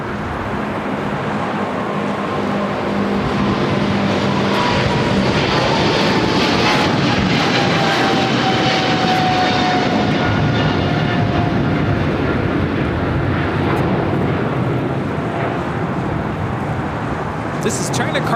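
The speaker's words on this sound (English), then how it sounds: "This is China Cargo Airlines 222, the Cargo King, taking off to Shanghai on a 777 freighter." China Cargo Airlines Boeing 777 freighter taking off from LAX runway 25 left, a loud, sustained jet engine roar heard from nearby, steady in level over the whole stretch, with faint background noise but no clear voices.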